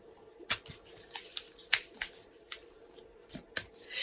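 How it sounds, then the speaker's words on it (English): Sacred Traveler Oracle cards are shuffled close up in a quiet room, giving soft irregular riffling slaps and flicks spread across a few seconds. "now I'm shuffling our Sacred Traveler Oracle cards"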